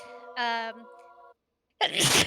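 A single sharp, breathy sneeze bursts out near the end, following a short stretch of voiced sound and a brief pause.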